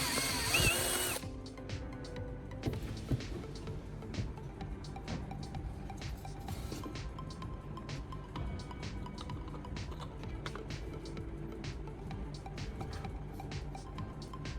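A power drill bores a hole into the side of an old spray paint can, a loud burst at the start giving way to a steady whirring grind with scattered clicks and ticks as the bit works through the metal.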